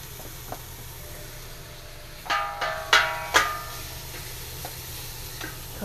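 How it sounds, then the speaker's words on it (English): A pound of bacon frying in a pot, heard as a faint, steady crackle under a low background hum, broken by a few sharper clinks and pops in the middle. "I've got 1 pound of bacon, and this is going to sizzle away here."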